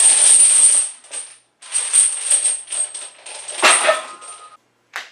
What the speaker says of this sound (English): these chains are very loud